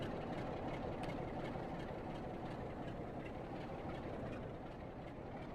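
Class 66 diesel locomotive running at speed in the Train Sim World 4 game, a steady broad rumble with faint rhythmic clatter, heard at a distance with no talk over it.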